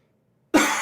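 A single abrupt, loud cough right up close to the mic after a moment of silence, from a man hosting a live comic book chat stream.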